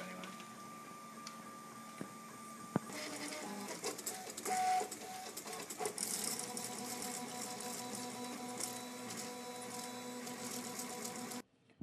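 A 3D printer runs with whirring stepper-motor tones and mechanical buzzing that shift in pitch as the head moves, with clicks and bursts of activity before stopping abruptly near the end.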